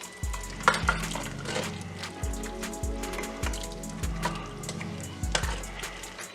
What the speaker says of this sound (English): we're gonna go ahead and give this a stir now